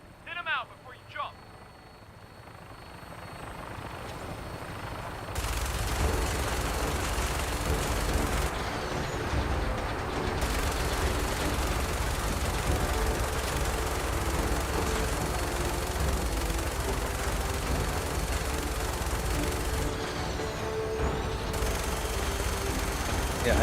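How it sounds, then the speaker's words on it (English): Heavy gunfire and a minigun rattle nonstop in the Fallout 4 mod America Rising 2, mixed with a helicopter drone in a dense, loud wall of combat noise while players talk over it. "Seeing heavy gunfire ahead. Get ready on that minigun."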